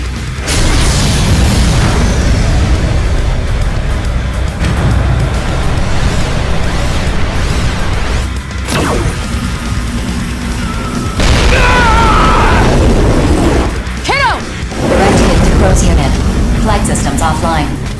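A high-powered laser weapon strikes an aircraft in the mech game Daemon X Machina, with loud booms, rumbling blasts and crashing impacts while voices talk over the action.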